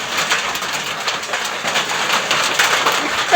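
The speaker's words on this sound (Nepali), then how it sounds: "निकै पानी परिरहेको छ।" Heavy rain mixed with hail pours down outdoors, a dense, loud hiss broken by sharp, irregular spatters of impacts that never let up.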